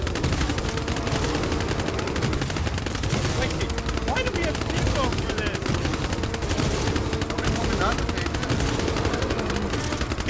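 Rapid, continuous video-game gunfire, including a seafoam gun, rattling steadily and densely throughout at moderate loudness, with voices underneath.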